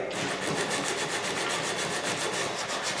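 Sandpaper rubbing back and forth across a wooden guitar headstock, a continuous rasping scratch with quick regular strokes, close and fairly loud.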